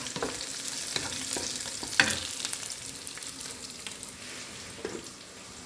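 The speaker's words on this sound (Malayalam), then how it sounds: "ആദ്യം കടുക് വറുത്തിട്ട് ഞാൻ ഇതിനകത്തോട്ട് തന്നെ ഇട്ടിട്ടാണ് തേങ്ങ മൂപ്പിക്കുക" Mustard seeds and coconut frying in a pan, giving a steady, fairly quiet sizzle with scraping stirs and one sharp clatter early on.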